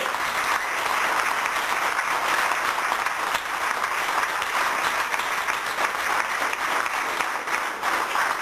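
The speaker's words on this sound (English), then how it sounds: "that in itself just deserves a round of applause" Steady, full applause from a convention audience for a 70-year-old guest at a 1994 Bruce Lee UK convention, continuous and even throughout.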